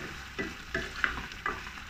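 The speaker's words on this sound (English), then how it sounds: "Continue stir frying" Shrimp and asparagus being stir-fried in a wok, with soft sizzling and a few rhythmic scraping tosses of the spatula, quiet and close, no talking.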